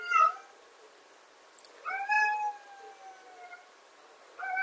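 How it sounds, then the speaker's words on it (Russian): A cat meows several times indoors, with a short cry at the start, a longer drawn-out meow in the middle and another beginning at the end, fairly faint and heard alone. "Мне тут кошка просто помогает проводить вебинар."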